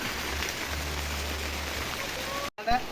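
Steady rain hisses down in a continuous wash, with a faint voice underneath and a brief break near the end.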